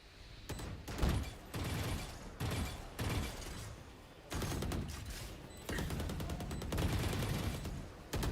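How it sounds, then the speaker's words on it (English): Gunfire in the Valorant video game during a competitive collegiate match: repeated bursts of rifle fire, some rapid and some spaced out, fairly loud and close, with no talking. "Firing going through the smoke."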